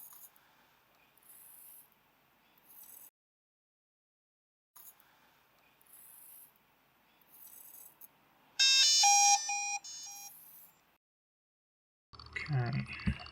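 A DJI Mavic Air 2 drone with an ESC connection fault sounds a bright electronic alert, a short burst of loud high-pitched beeps among quieter intermittent tones and clicks.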